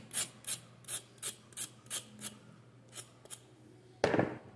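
Carrots scraped with a knife while preparing vegetables for steamed fish: a series of about ten short, rasping strokes in a steady rhythm, close and fairly quiet, ending with a louder, longer scrape.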